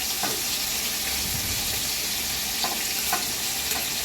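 Fish fry in a kadai of hot oil with a steady, close hissing sizzle. A few soft clinks and stirring taps break through the sound.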